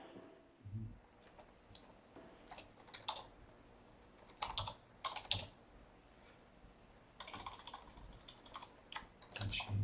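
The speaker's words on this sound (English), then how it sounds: "Sorry, I'm typing." Someone types on a computer keyboard during an online meeting, with bursts of quick clicking keystrokes separated by short pauses, fairly close and quiet, with no talk.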